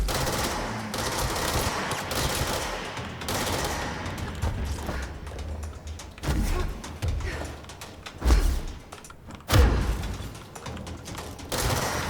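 Gunshots in the video game Control, sustained rapid fire with scattered heavier thumping impacts and booms over twelve seconds, loud and dense with no talking.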